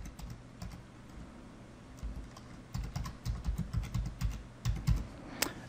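Computer keyboard typing while entering a filter name in data import software, a sparse few keystrokes at first, then a denser run of clicks later, close and clear with no speech.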